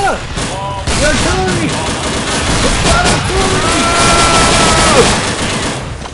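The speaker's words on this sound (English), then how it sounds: "artillery!" Artillery fire from the Dino D-Day World War 2 shooter, with loud, continuous booms and rapid gun bursts. Shrill creature cries sweep up and down over the barrage throughout.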